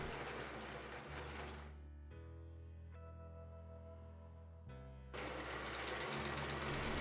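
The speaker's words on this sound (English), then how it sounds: "Top stitch around the entire facing, including the sides and the hem, staying close to the folds." A sewing machine top stitches a fabric facing, with bursts of fast mechanical needle chatter broken by a quieter pause where a low motor hum holds, then the stitching resumes, close and clear.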